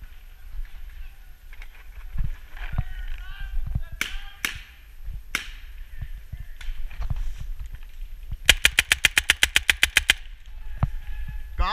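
Paintball guns firing outdoors: scattered single pops, then a rapid burst of about a dozen evenly spaced shots, with footsteps and movement around them and people calling out in between.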